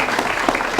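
A short burst of clapping from a small group, steady and fairly close.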